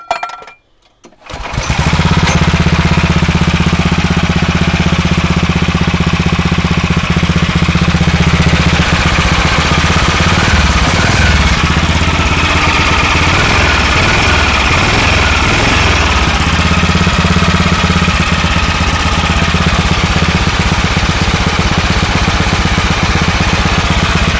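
A Massey Ferguson race tractor engine, fired up cold and choked, runs loud and steady right beside the listener, holding a rough, lumpy idle with a constant low throb from start to finish.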